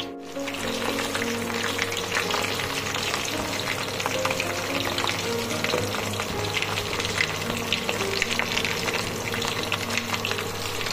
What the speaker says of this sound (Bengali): পটলগুলো ভেজে নেব, ভেজে নিয়ে তারপর মেইন প্রিপারেশনটা শুরু করব।